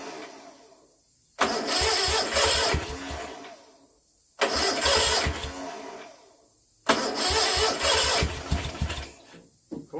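An old Kohler twin engine, just back from a valve job and service, cranks in three long bursts of several seconds each, loud and close, with quiet gaps between attempts and no clean catch.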